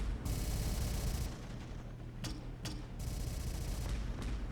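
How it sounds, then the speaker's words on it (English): Mortar and artillery fire in Terminator: Dark Fate, a dense continuous rumble of explosions with a few sharp distinct blasts cutting through, sustained and heavy throughout. "the mortars are getting some work in"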